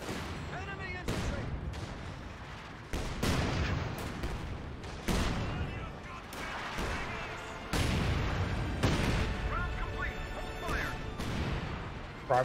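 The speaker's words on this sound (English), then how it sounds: "Grenade firing." Gunfire and crashing explosive impacts in the real-time strategy game Company of Heroes 2, including grenade fire, as sharp bangs and booms recurring every second or two under a commentator's talk.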